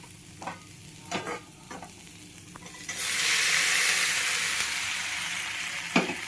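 A spoon stirs peas sundal with onion, ginger and green chili in a hot pan. A few scraping knocks come first, then a sustained sizzling hiss swells up and holds, with one last clatter near the end.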